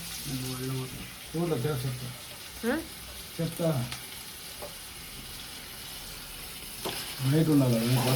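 Ingredients for a mushroom curry fry in a pan with a low, constant sizzle, while people talk intermittently over it.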